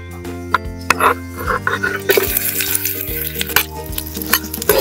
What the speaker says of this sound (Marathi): तेलात सगळ्यात पहिले आपण कांदे आपण उभे उभे चिरले होते, तर ते सगळ्यात पहिले आपण तेलात टाकून देऊया आणि ते चांगले परतून घेऊया.